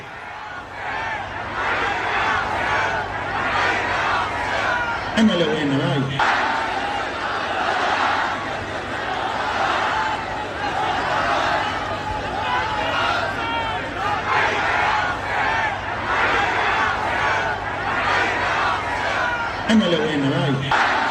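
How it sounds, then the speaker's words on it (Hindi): Thousands of supporters of Nasrallah gathered in Beirut, Lebanon, where he was killed, make a dense, continuous crowd roar that holds steady throughout, with chanting voices and a brief low rumble partway through. "लेबनान के बेरूत में समर्थन के लिए उतरे हजारों लोग।"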